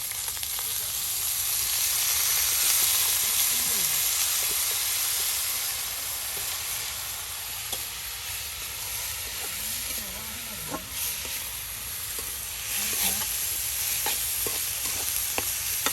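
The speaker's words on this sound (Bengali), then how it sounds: "তেলের সাথে মরিচ পেঁয়াজ তারপর তেজপাতা দিয়ে এটা প্রথমে ভাজি করে নেওয়া হয়" Chili, onion and bay leaves fry in hot oil with a steady, close hiss and sizzle that runs throughout, broken by occasional stirring scrapes, while a voice speaks faintly underneath.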